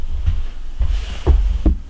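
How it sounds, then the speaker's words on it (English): A low, steady rumbling throb pulses close up with soft repeating thumps, like a small mechanical purr, with no talking. "It comforts you. It purrs in your pocket."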